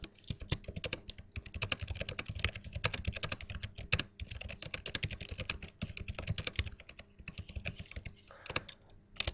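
Fingers type Python code on a computer keyboard, rapid close clicking keystrokes in uneven bursts with short pauses between, loud and dry with no voices over them.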